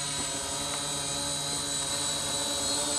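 SK450 quadcopter drone in flight, a steady droning whine of propellers held at a constant level throughout, with a faint shifting of pitch as the throttle is worked.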